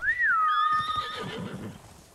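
A horse in the video game Ghost of Tsushima lets out a loud, close whinny that rises then falls, trailing into soft hoof clip-clops.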